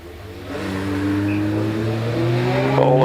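A BMW rally car accelerates hard up the Prescott hillclimb, its engine rising steadily in pitch through the gears, loud and close, with no talk over it.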